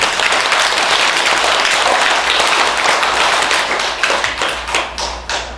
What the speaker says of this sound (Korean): 그럼 박수 한번 쳐요